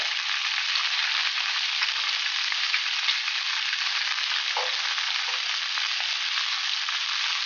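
Fish frying in a pan of hot oil, a steady dense sizzle with faint crackles running throughout at close range, no voices.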